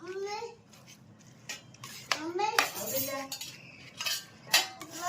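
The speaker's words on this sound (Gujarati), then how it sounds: "ચલો હવે સારી રીતે એને મિક્સ કરી લેશું." Hot garlic millet rotlo is mixed with jaggery in a dish, with close metal spoon clinks and scraping against the plate while a voice and other talk sound in the background.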